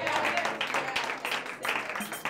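A church congregation bursts into brief, dense applause, a continuous patter of many hands clapping with voices mixed in.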